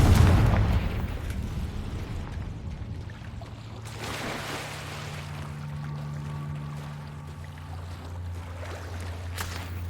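A Confringo spell blast from the Hogwarts Legacy video game bursts out loudly at the very start as a single booming explosion, then dies into a low, steady hum of game ambience.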